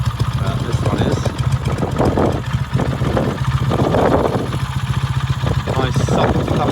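A 1953 BSA A10 Golden Flash 650cc motorcycle with iron head and barrel idling nearby, a steady soft, thumpy low rumble with even pulsing, loud and close, under someone talking.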